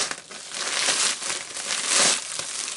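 A bag of Lego Star Wars parts packed with bubble wrap is sliced open, giving close, steady crinkling and crumpling of plastic that swells in two louder bursts, with no talk.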